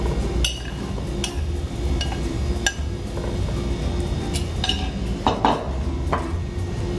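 A utensil mixes aguachile in a bowl to dissolve the salt, giving scattered clinks and taps against the bowl over a low steady hum, close by with no talk.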